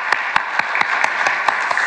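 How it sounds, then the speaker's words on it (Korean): A church congregation at an evening worship service claps together in a steady rhythm, loud sharp beats over a continuous wash of applause, with no talking. "귀하다는 마음 전달하면서 다시 한번 박수."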